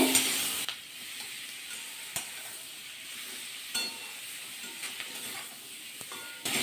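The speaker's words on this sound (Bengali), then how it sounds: "পেঁয়াজ চাপছি চামচা হালকা ভাজা করে নেবো প্রথমে" Onions are lightly fried and stirred in a pan, producing a soft, quiet sizzle with occasional sharp spoon clicks against the metal.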